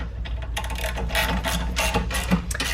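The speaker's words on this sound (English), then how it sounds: "I have the convenience and strength of a dedicated socket, so I'll go ahead and tighten it up securely with that" A dedicated socket turns a bolt on a Thule 9054 DoubleTrack Pro hitch-mounted bike platform rack, giving close, rapid ratcheting clicks in short bursts.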